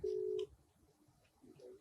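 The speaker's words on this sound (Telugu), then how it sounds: "రింగ్ అవుతుంది" A single steady electronic telephone tone sounds for about half a second at the start of a video call. Faint background murmur follows.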